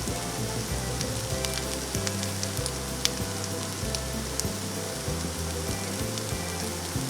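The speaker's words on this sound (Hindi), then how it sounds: "कढ़ाई को हम लोग मीडियम फ्लेम में गरम करेंगे। ध्यान रहे कि इसमें ज़्यादा हाई फ्लेम नहीं रखेंगे और 2 चम्मच हम लोग इसमें देसी घी डालेंगे।" Two spoons of desi ghee heating in a kadai over a medium flame for paan modak, giving a steady close sizzle with faint crackles and a low hum underneath, no talking.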